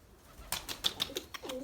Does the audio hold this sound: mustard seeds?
no